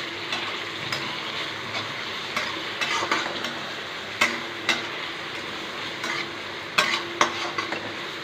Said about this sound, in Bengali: পেঁয়াজ তোরা লাল লাল হয়ে যাচ্ছে, এতে টমেটো দিচ্ছে। এবার এটাকে ভালো করে ভাজবে